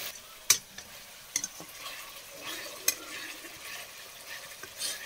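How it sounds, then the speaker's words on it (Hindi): Masala frying in a pan for a village-style jackfruit curry, a steady low sizzle with several sharp spoon scrapes and clinks against the pan as it is stirred, fairly close and quiet. "इधर मसाला भी फ्राई हो रहा है फ्रेंड्स, देखिए किस तरह से मसाला एकदम मस्त भुना रहा है।"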